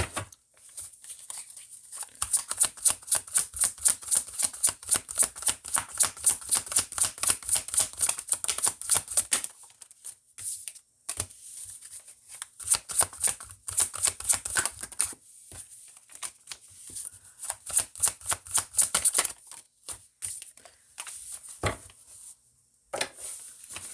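Tarot cards being shuffled in rapid riffling bursts, each run a dense flutter of card edges that pauses briefly and then starts again over roughly twenty seconds, close and crisp with no talking.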